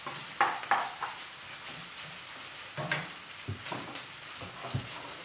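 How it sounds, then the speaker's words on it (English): Prawns fry with cauliflower rice in a pan with quiet, soft sizzling, broken by a few clicks and scrapes of stirring. "You want to cook this until your prawns have gone pink before we add the sauce."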